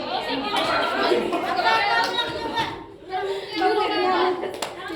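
Children in a classroom microteaching lesson play the tepuk nyamuk mosquito-clap game, with bursts of hand claps mixed with lively kids' chatter and voices, a brief lull midway before the clapping and talking pick back up.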